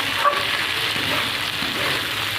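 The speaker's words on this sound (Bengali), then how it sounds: "চিনি দিয়ে একটু নাড়িয়ে নেব।" Broad beans sizzling in a frying pan while sugar is stirred in, a steady close hiss with soft scraping of the spoon through the short stretch, no voices.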